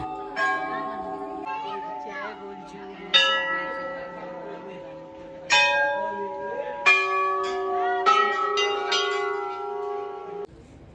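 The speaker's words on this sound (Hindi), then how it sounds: "ये बच्चा है घंटियाँ बजाते बजाते, अब देखिएगा कैसे फाइनली थकेगा।" A child ringing temple bells at Chitai temple: bright, ringing clangs struck at irregular intervals, each strike leaving a long shimmering decay that overlaps the next, with no talk over them.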